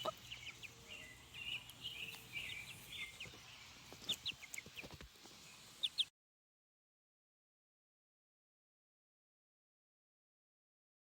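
Young chicks and adult chickens in a flock give soft, scattered clucks and faint peeps over quiet farmyard ambience, then the sound drops out into silence.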